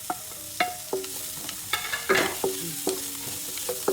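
Sliced onions sizzle in butter and oil in a pan, with a spoon tapping and scraping the pan in an irregular rhythm of sharp clinks over a constant close frying hiss.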